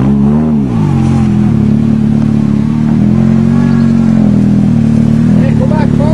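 A Nissan 200SX engine revs hard and drones steadily while the car churns through mud on a muddy farm, the loud engine tone rising and holding throughout.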